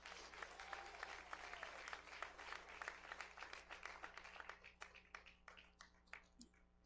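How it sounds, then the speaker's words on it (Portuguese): Steady applause from a church congregation, many hands clapping together, gradually thinning into scattered claps before fading out. "Bate palmas ao Senhor Jesus."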